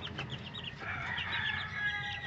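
Two-week-old chicks peep in a busy overlapping chorus of high, thin chirps. The sound is close and steady throughout, with no talking.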